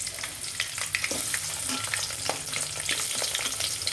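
Onion pieces frying in hot oil, a steady, dense sizzle that fills the whole stretch at close range, with small crackles and spatters popping over the continuous hiss and no voices.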